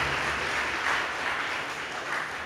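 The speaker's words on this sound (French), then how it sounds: "Merci d'applaudir la FSA." An audience at a school competition applauds for one school, giving a dense, steady wash of clapping that fills the whole moment at an even, fairly loud level.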